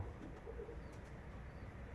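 Pigeons coo softly at a dovecote during lean times, low murmuring calls at a distance over faint background noise, with no one talking.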